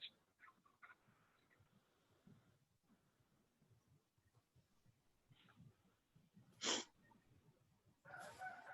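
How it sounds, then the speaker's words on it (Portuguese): Rooster crowing somewhere in the distance, faint and partly buried in a quiet room's background, with a louder abrupt burst near the end. "Algum de vocês está na roça que eu estou ouvindo um galo cantar em algum lugar"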